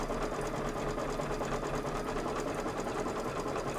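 A Kimberbell embroidery machine stitches out a design in a 5x7 hoop with medium tearaway stabilizer, giving a steady, rapid, rhythmic mechanical chatter that runs continuously at moderate volume with no talking.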